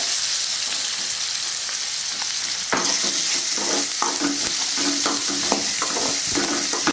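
Chopped onions with green chili and curry leaves frying for sundal, a loud continuous sizzle that gains sharp spoon-against-pan stirring clatter partway through, with no voices.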